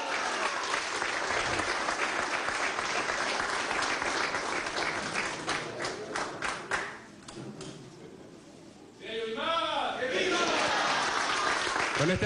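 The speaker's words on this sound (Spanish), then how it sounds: "este aplauso cariñoso es para nuestra campeona del mundo, Yolimar Rojas" An audience at a state ceremony applauds world champion athlete Yulimar Rojas, warm sustained clapping that briefly fades before a voice speaks, then the applause swells again.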